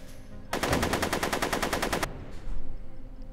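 A loud, close burst of rapid automatic gunfire in the Back to the Future adventure game, with evenly spaced shots rattling for about a second and a half before stopping abruptly.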